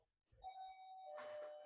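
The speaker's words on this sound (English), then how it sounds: "our doorbell goes off right as I'm about to answer this question" A home doorbell chimes twice in a clear ding-dong with a sustained ringing tone. It is fairly quiet and close, with no one speaking over it.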